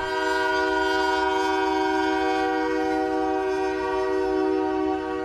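A long train rolls past a rail crossing on Allen Road in Woodhaven, a steady loud drone with sustained horn-like tones held throughout, no voices.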